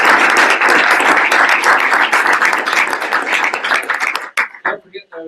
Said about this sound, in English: could we get a round of applause?